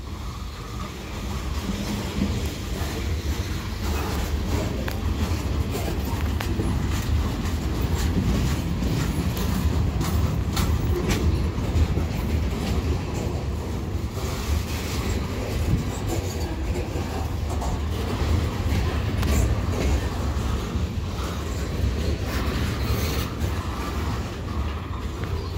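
A CN freight train led by locomotive 8952 rolls through Saint-Lambert station with a steady, close rumble and continuous wheel clatter throughout, with no talking.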